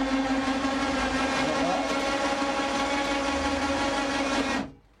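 The outboard motor on a traditional Loire gabare is raised: a steady mechanical whirring drone runs for about four and a half seconds, then cuts off abruptly into near silence.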